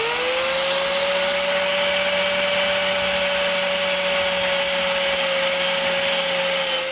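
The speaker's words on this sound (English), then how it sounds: "Very carefully scratch the surface of the paint without pressing down too hard with the angle grinder" An angle grinder runs steadily at high speed on a Mercedes, lightly scratching the car's rusted paint, a loud, close, continuous whine with a constant tone and no talking.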